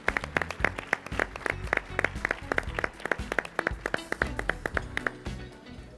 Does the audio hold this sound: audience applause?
yes